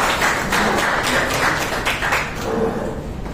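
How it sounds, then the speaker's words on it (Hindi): An indoor audience at a network marketing talk in India claps together, a dense, continuous patter of applause that swells and eases slightly over a few seconds. "एक बार तालियां बजा सकते हैं"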